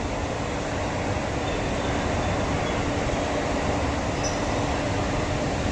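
A Mumbai local train travels from Dadar toward Churchgate near Mahalaxmi after the rain. It gives a continuous, fairly loud rumble and rush, steady from start to finish, with no talking.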